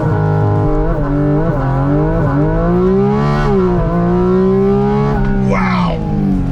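Porsche Cayman GT4 RS launching hard, its engine note climbing steadily with several quick gear shifts breaking the rising pitch, loud and close throughout with a brief rush of tyre or wind noise near the end.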